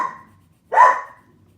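A single sharp, close bark from a dog indoors, preceded by a fading earlier bark and followed by quiet, with no voices.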